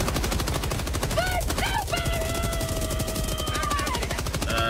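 Rapid, sustained machine-gun fire in Helldivers 2 rattles loudly and without a break, with whistling tones and electronic beeps from the game layered over the constant burst.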